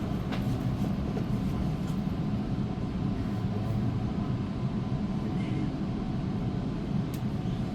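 A Sydney T3 Bankstown Line train passes at Wiley Park station, a steady low rumble of wheels and carriages close by, continuous and fairly loud throughout with faint clatter on top.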